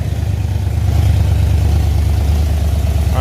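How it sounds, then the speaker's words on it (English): A 1970 Dodge Charger with a rebuilt 318 V8 and aftermarket Flowmaster exhaust idles, a deep, loud, steady rumble close to the tailpipe, with no talking. "as you can hear, exhaust sounds pretty good. Got some aftermarket Flowmasters on there."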